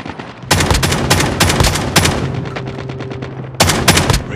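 Rapid machine gun fire from the Call of Duty Mobile video game comes in loud, close bursts of sharp rattling shots, with a short pause before a final burst at the end.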